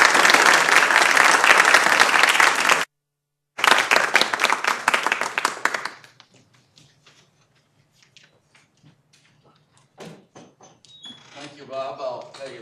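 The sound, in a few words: audience applause welcoming lecturer Professor Dan Brock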